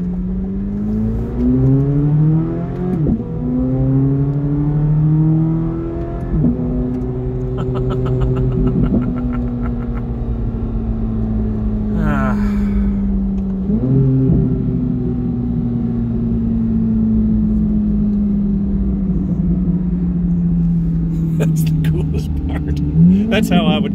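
A Chevrolet C8 Corvette Z06 with a naturally aspirated flat-plane crank V8 revs loudly from inside the cabin, rising and falling through several gear changes, with people talking over the engine.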